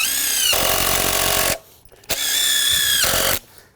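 A power drill drives screws into plywood shed roofing in two long, loud whirring bursts, each ending abruptly with a short quiet gap between them.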